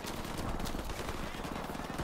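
Gunfire from the Call of Duty: Modern Warfare Remastered video game in a custom match, rapid automatic bursts rattling continuously and fairly loud across the whole stretch.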